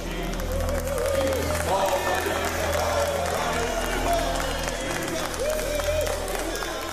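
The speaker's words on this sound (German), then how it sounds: "Im Palasttheater feiert das Lied Premiere. Auch unter dem Jubel der begeisterten Haussklaven." A crowd cheers and applauds at a song premiere in a palace theatre, a dense, steady wash of clapping and voices that holds at full loudness throughout, with a low sustained hum underneath.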